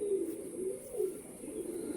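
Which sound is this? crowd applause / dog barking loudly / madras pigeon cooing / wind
madras pigeon cooing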